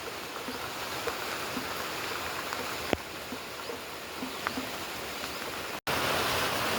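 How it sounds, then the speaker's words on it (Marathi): Steady broadband hiss of rain falling in a village in the morning, constant and fairly loud with occasional faint drips and taps and a brief dropout near the end. "मस्त पाऊस चालू आहे"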